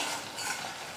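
Ripe tomatoes get mashed with a ladle in a frying pan over a medium-low flame for chutney, giving a soft, steady squelching and scraping with a faint sizzle, close up and continuous, with no voices.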